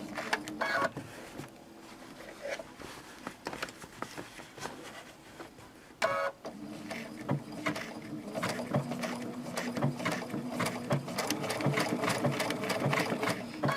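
A sewing machine stitches fabric applique around a leaf shape, its rapid needle chatter running steadily close by in several bursts with short pauses and speed changes, and no one talking.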